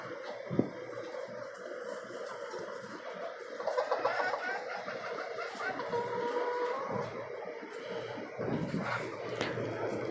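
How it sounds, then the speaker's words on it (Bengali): A native rooster kept in a cage in a rooftop poultry coop gives a few clucking calls against steady background noise, with a louder stretch midway; faint voices are mixed in. "দেশি মোরগ।"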